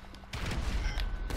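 Gunfire during a GTA V Online deathmatch in Blaine County, heard as a dense run of loud, close shots and thuds that starts after a quiet moment and keeps going to the end.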